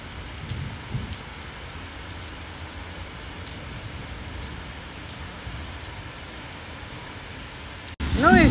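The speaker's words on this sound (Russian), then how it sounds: "И ливень пошел прям. Ну, не ливень, но такой хороший, добротный дождь." Steady rain falls outdoors, a dense even patter and hiss that holds for the whole stretch, with a brief thump near the start and a louder rustling burst at the very end.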